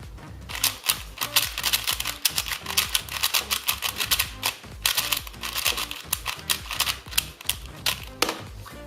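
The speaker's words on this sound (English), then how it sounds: "So the turning of the cube is very smooth and very fast." A YJ Guansu 4x4 speed cube turned rapidly by hand, producing close, dense bursts of plastic clicks and clacks in quick irregular flurries with no talking.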